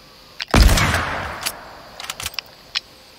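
A golden hunting rifle fires in the Fortnite video game, one loud, sharp shot followed by a long decaying tail, then a few fainter scattered cracks and pops trailing off.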